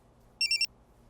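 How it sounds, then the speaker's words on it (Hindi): A phone rings with a single quick burst of high electronic trilling pulses, brief and fairly clear above a quiet background hum. "अरे फोन किसका आ गया?"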